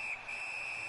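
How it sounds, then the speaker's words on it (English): Referee whistle blowing in a PS4 hockey video game, a single sustained shrill tone lasting nearly a second, steady and fairly loud over faint arena background noise. "usually the whistle is gonna stop the play"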